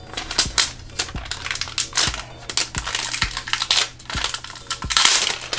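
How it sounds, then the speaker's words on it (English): Plastic packaging crinkles and crunches while a DJI Ronin-S gimbal is unboxed, heard as close, irregular bursts of crackling handling noise repeating every half second or so, with no talk. "pick up this plastic packaging"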